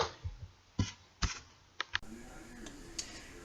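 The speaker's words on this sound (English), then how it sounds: "I am just shuffling up the cards for you." Tarot cards being shuffled by hand, a handful of crisp riffling clicks and snaps in close, quiet succession with no one talking.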